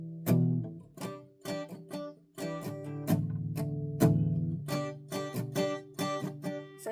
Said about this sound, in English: she uses a muting strumming technique where you basically just mute the strings with the palm of your hand while you play the chords